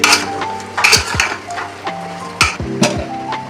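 Turmeric powder and salt being stirred into a cooking pot, with a utensil scraping and clinking against the metal in short irregular strokes, close and fairly loud, and a faint sizzle beneath.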